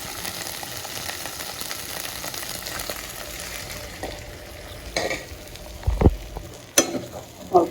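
Pointed gourd cooked with spices in a pan, a steady sizzle and stirring, then a splash and bubbling as water goes in, followed by scattered spoon knocks, close and fairly loud with no talk.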